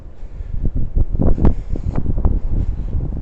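Strong wind buffets an open microphone beside the water at night, with rough, gusty rumbles and irregular thumps rising and falling throughout and no voices.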